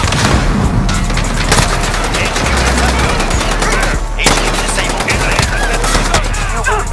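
Rapid, loud bursts of automatic gunfire and booming shots in a Call of Duty match, dense and continuous with overlapping reports, near and overwhelming.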